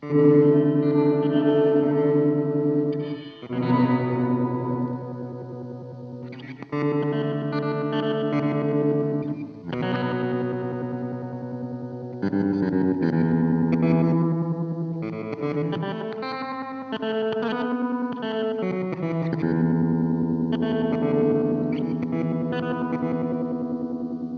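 A guitar played through an Aural Dream reverb pedal rings out in sustained chords, with a wavering vibrato shimmer and lush reverb tails, no talking.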